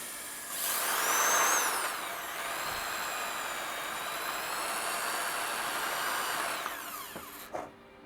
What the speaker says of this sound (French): À la perceuse